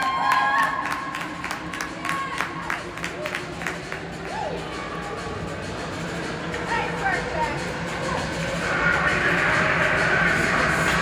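Crowd noise at a peewee hockey game, a diffuse roar of cheering that swells toward the end, with chatter and scattered shouts mixed in.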